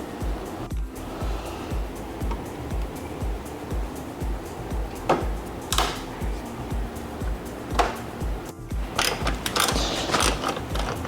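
Mechanical clicking and ratcheting while a lower wheel well piece is unbolted on a Toyota GR86, a steady run of small tool clicks with a few sharper rattles and knocks near the end, close up with no talk.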